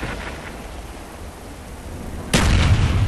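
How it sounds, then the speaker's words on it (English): Friendly mortar barrage in Call of Duty Black Ops on the Highrise map: a steady low rumble of distant shelling that jumps into a loud, heavy burst of impacts near the end. "Friendly mortars inbound."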